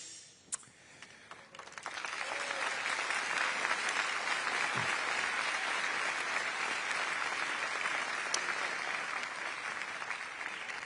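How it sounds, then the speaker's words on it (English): An audience at a business forum claps steadily in a long, dense wave of applause mixed with crowd noise, building after a brief quieter start and holding without pause. "When I pause, it's because they're clapping and chanting Libertad."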